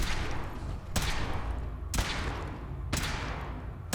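A ship's cannon in the Fallout 4 video game fires three heavy, evenly spaced booms about a second apart, each with a sharp crack and a long decaying rumble.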